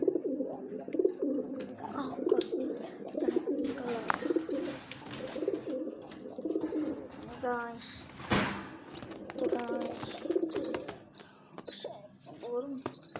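Domestic pigeons coo in soft, repeated throaty rolls close by, with occasional wing flutters and chirps, while someone talks intermittently over them.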